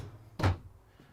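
A pull-out pantry shelf slides open in the kitchen of a 2020 Renegade Valencia 38RW motorhome, giving one short, close thunk-like rumble that fades into quiet room tone.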